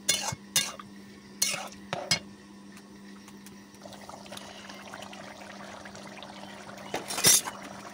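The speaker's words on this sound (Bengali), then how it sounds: "সুন্দর করে নাড়িয়ে নিয়ে এখন আমি পরিমাণ মতো জল দিয়ে ঝোলটা দিয়ে দিচ্ছি" A spoon scrapes and clanks against a pot as potato and eggplant curry with rohu fish and lentil dumplings is stirred, a few sharp knocks followed by quieter pouring water and bubbling.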